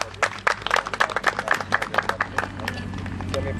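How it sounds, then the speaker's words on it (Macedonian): Audience applause at a Macedonian shepherd dog show, a few seconds of close, fairly loud clapping that tapers off toward the end. "Аплауз еден"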